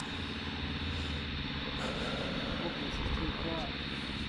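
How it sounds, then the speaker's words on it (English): A propeller aeroplane drones overhead outdoors, a loud continuous engine rumble with a broad hiss that holds steady throughout, while a person talks under it. "we still have this aeroplane just annoying the hell out of me"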